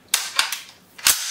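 An M1 Garand rifle, the type used in the Korean War, is test fired: three sharp, snappy reports come in quick succession, then a louder, longer crack follows after a brief pause, with no talk.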